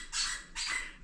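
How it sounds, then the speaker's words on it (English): A dog's squeaky toy gives two short, bright squeaks close by, with a brief pause between them and no talking. "Please excuse the dog squeaky toy."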